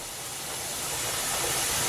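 Steady, broad hiss of steam venting from a pressure canner during home canning of chicken stock, continuous and close, slowly growing a little louder with no talking.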